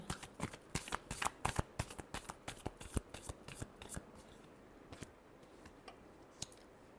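Tarot cards being shuffled by hand, a quick run of crisp riffling snaps and flutters close up that slowly thins out toward the end, with no talking.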